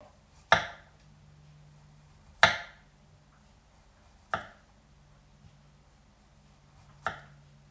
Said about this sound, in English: So all we do is cut the lime into thin slices crosswise